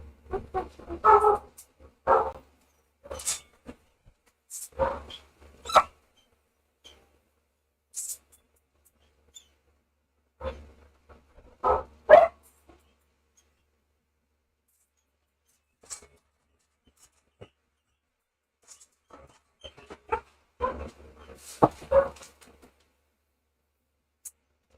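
A pet dog indoors gives short, scattered barks and whimpers, separated by stretches of quiet and fairly close to the microphone.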